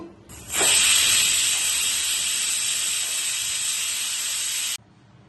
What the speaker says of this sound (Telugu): కుక్కర్ నాలుగైదు విజిల్లు వచ్చిందండి